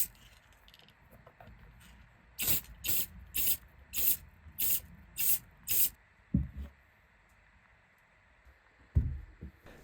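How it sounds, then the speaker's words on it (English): A satin clear coat aerosol is sprayed in seven short, even hissing bursts onto small Nike Dunk SB sneakers, close and rhythmic, followed by a couple of soft handling knocks in otherwise quiet surroundings. "Using a satin clear coat, I give a light dusting to the inks to give them some durability."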